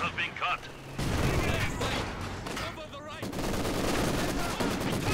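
Gunfire in Company of Heroes 2: rattling bursts of machine-gun and rifle shots roll on almost without pause, dense and loud, with a commentator talking over the battle.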